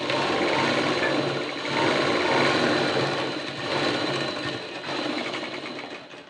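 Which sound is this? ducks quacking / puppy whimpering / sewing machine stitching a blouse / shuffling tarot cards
sewing machine stitching a blouse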